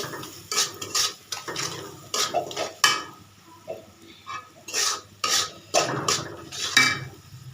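A utensil scrapes and clatters against a pan in quick irregular strokes, stirring spices with metallic scraping and no voices.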